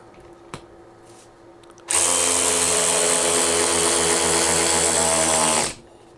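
A DeWalt DCF512B cordless 20V ratchet drives a 5/16 lag bolt into treated wood, a loud, steady high-pitched motor whine lasting about four seconds before stopping abruptly, with a quiet click just before it starts.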